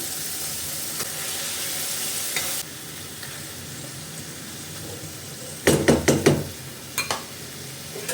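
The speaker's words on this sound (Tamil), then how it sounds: "ஒரு கை அரை கிலோ கறி எடுத்துருக்கேன் சிக்கனு இப்போ க்ளீன் பண்ணி வச்சுருக்கேன் சிக்கன் போட்டுக்கலாம்" Half a kilo of cleaned chicken frying in a pan, a steady close sizzle and hiss, then several quick stirring knocks and scrapes against the pan, no voices.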